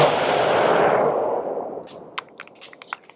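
Unsuppressed rifle fired in a fast burst through a Hoffman Tactical Super Safety selector, a loud roaring blast that decays over about a second and a half, followed by several sharp, separate clanks and clicks.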